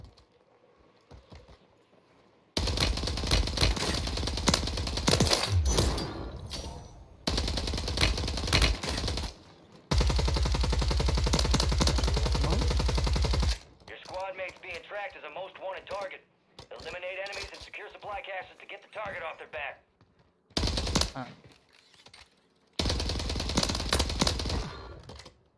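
Gunfire in Call of Duty Warzone Plunder mode comes in several loud bursts of rapid shots, separated by brief pauses, with stretches of talk in between.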